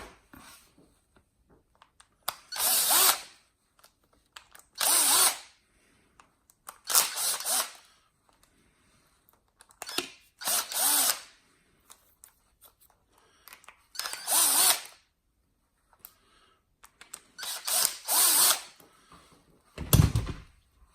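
A power drill backs six screws out of a TLR starter box, with separate short whirring bursts of a second or two each, spaced by quiet gaps, close and clear.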